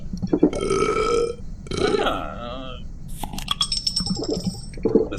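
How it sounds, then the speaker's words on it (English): A cartoonish burp sound effect in a driving video game demo after drinking a cola, several drawn-out belches in a row with clinks and game noise around them. "You need to burp after you had a good"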